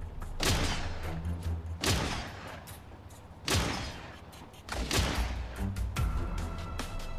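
Gunfire in the survival game Miscreated, heard as four loud, booming shots spaced a second or more apart, each with a long echoing tail, with no talk over them.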